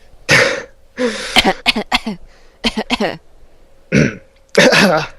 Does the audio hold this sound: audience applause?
no